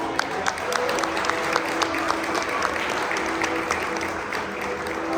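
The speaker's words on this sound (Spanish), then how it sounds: "Así que demos un aplauso al pastor." A church congregation applauds the pastor with sustained, even clapping from a large crowd, dense and continuous throughout.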